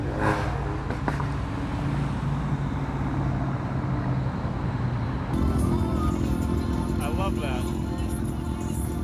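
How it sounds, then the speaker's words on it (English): A GMC motorhome drives past amid steady traffic at the Woodward Dream Cruise, its engine a continuous broadband rumble that swells as it passes, with other car noise around and no clear talk. "Here comes a GMC motorhome."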